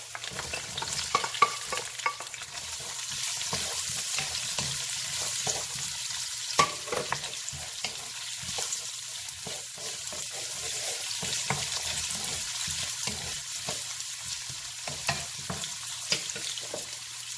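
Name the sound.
stir-frying garlic, purple onion and celery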